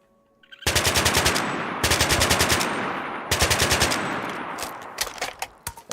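Rapid automatic fire from an FAL rifle in a Minecraft 1.18.2 gun mod, loud and close, in three sustained bursts with brief pauses between them, ending in a few scattered single shots.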